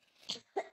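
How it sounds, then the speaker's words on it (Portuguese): A person coughs briefly nearby, with two short, rough bursts in quick succession. "Eu tô tossindo."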